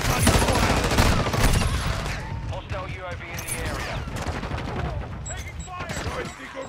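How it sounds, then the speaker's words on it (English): Dense video-game gunfire in an aerial combat match, sustained bursts and volleys rolling continuously at close range, with voices calling out over the shooting. "Taking fire!"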